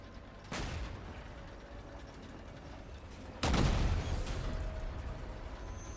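Vehicle weapons in Crossout firing at a bot, two heavy blasts, each followed by a sustained rumbling roll of fire, the second louder and longer, with no talking.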